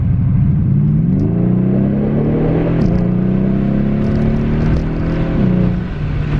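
A 2015 Mercedes E63S AMG, a 600 hp sedan, pulls hard through the gears, loud rising engine roar heard from inside with brief dips at each shift, no talking.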